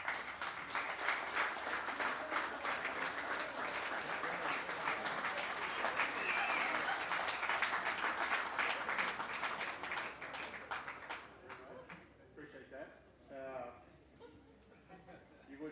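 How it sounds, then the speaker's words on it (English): An audience claps loudly at a stage ceremony during a Namibia professional hunting association open session; the applause is sustained and full, then thins and fades out near the end. "give him a big applause,"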